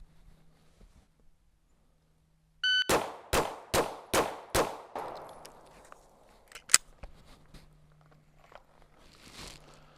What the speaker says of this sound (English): I'm just going to follow the dot and press the trigger as I see it come back each time.